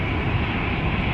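An Aer Lingus A320 airliner, about 22 years old, rolls past at Schiphol Airport, its engines giving a steady, loud, broadband roar that fills the moment without voices.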